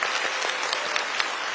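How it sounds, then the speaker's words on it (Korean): A large crowd at a public town-hall talk applauds, with dense, steady clapping that fills the hall at full loudness throughout, close and continuous with no speech over it. "2층 여러분을 위해서 박수 한번 보내주세요"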